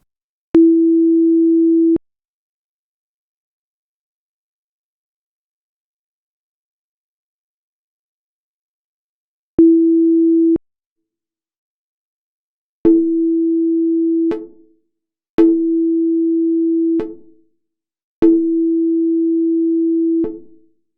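A synthesizer sine tone run through reverb plays as a steady hum. It starts as one dry note, then after a pause comes a short note and three longer notes with reverb tails, each fading after it stops.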